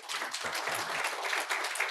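Brief burst of audience applause at a partner summit, a crowd clapping loudly and steadily throughout the short moment, with faint voices mixed underneath.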